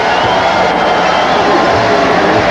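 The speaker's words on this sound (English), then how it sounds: "Look at the crowd." A dense stadium crowd at a 1997 college football game between the Pittsburgh Panthers and their rival roars continuously and loudly with cheers and whoops.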